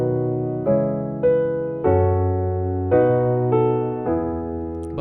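Piano sounds a simple gospel chord progression from the hymn The Old Rugged Cross, sustained block chords changing roughly every second, close and clear with no talking.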